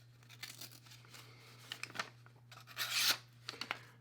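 Freshly sharpened single bevel broadhead slicing through material in a test cut, quiet scattered rasping and tearing strokes building to a louder ripping burst near the end, close and alone.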